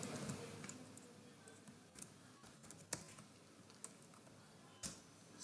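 Light, quick typing on a computer keyboard: scattered soft key clicks in irregular bursts, fairly faint and close, with no voice over them.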